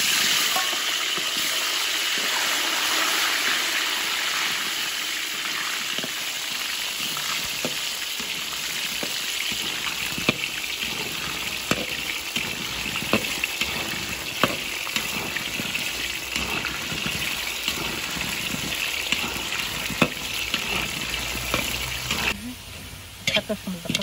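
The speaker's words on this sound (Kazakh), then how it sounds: "Қазір бірінші картошканы отдельно қап-қызыл етіп қуырып аламыз." Potatoes fry in hot oil for kazakh quyrdaq, a steady loud sizzle with occasional stirring clicks, spoken voices heard intermittently over it.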